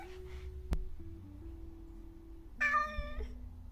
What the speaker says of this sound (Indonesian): Lapar dikit tinggal meong, makanan dateng.